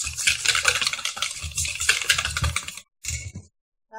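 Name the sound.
quickly stirring egg yolks into cheesecake batter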